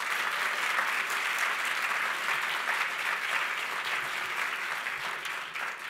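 Audience at a law school association awards ceremony gives a collective round of applause for award winners, with sustained, even clapping from a large room that gradually softens near the close.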